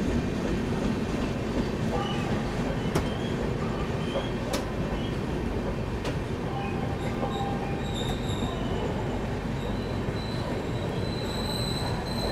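A train rolls along the rails at a steady, unbroken roar, with faint wheel squeals and sharp metallic clicks scattered through it, heard close by from on board or trackside.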